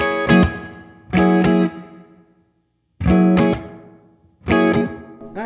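Electric guitar played through a Keeley DDR drive-delay-reverb pedal while its reverb time knob is adjusted; four loud distorted chord strums ring out in turn, each tail decaying away in lingering reverb, with no talking.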